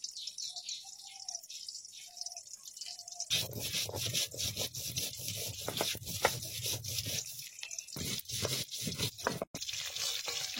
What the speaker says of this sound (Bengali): আমি পাটায় কিছু মশলা বেটে নেব। জিরে, লঙ্কা আর কিছুটা আদা আমি বেটে নেব